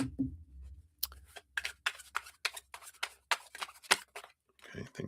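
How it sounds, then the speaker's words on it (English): Tarot cards being shuffled by hand, a quick series of crisp riffling bursts and soft slaps repeated in an irregular rhythm, close and fairly quiet, with a brief low voice at the start. "I feel like I need to shuffle here"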